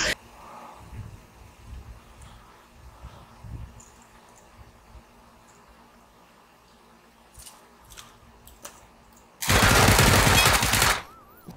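Sustained burst of automatic gunfire in PUBG: Battlegrounds, loud and harsh for about two seconds near the end, following a quieter stretch of scattered faint shots, clicks and movement sounds, with a voice speaking earlier.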